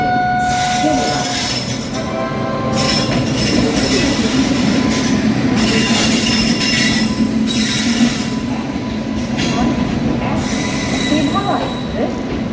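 The 13125 Kolkata–Sairang Express rolls into a station platform, wheels rumbling and squealing on the rails close by, steady throughout, while a public-address voice speaks over it.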